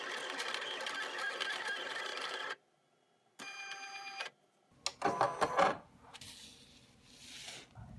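A sticker cutting machine runs over sticker paper on a cutting mat, giving a steady mechanical whirring and buzzing that stops abruptly, then short bursts of motor and clattering handling noise follow.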